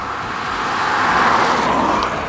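Peugeot 2008 1.6 BlueHDi 120 diesel engine from 2016, a steady, fairly loud drone with a slight rise and fall, no voices over it.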